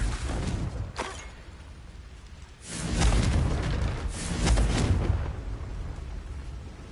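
A Confringo fire spell in the video game Hogwarts Legacy goes off with a sharp whoosh, then heavy booming blasts that swell and rumble for a few seconds before fading into a lingering low roar.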